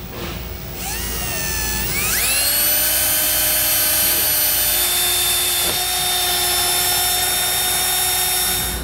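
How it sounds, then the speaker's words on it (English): Power drill with a small pilot bit boring a hole for a Surco exterior RV ladder on a 2020 Dutchmen Coleman Lantern LT trailer; the motor whines up and holds a steady, loud high pitch for several seconds. "I'm going to go ahead and run a small pilot bit hole first"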